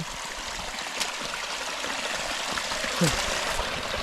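A cold stream flows steadily nearby on a trail near a cave and tunnel while someone splashes water on their face, a continuous rushing trickle with a few splashes and people talking throughout.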